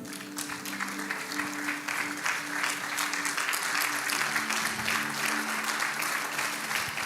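A church congregation applauds together in a steady, dense wash of clapping that runs the whole time, fairly close and even in level, with a low sustained tone humming underneath.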